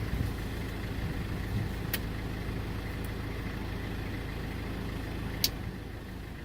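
A dump truck idles and rumbles steadily at a garbage dump, a low continuous engine drone with a few brief sharp clanks over it and no talk.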